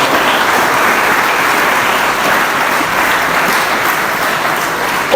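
Dense, steady applause from a crowd for rover scouts at an institute ceremony in Karachi, a continuous loud wash of clapping throughout with no break.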